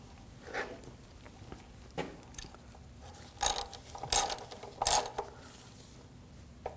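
A ratchet clicks in short bursts as an oil drain plug with a new seal is snugged down on an Audi S4, sharp metallic clicks spaced across the quiet, with a few louder clusters near the end.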